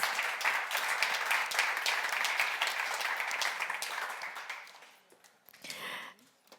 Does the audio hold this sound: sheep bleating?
no